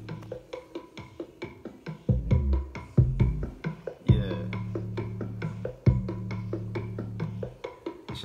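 A remake beat playing from FL Studio, with plucky melodic notes over deep sustained bass and punchy low hits, steady and fairly loud with no talking.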